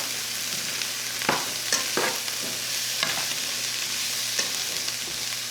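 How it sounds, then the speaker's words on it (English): Peppers cook down in a hot pan with a steady close sizzle, broken by a few sharp clacks and scrapes of stirring, with no voices. "Turn that heat back up. Cook these peppers down."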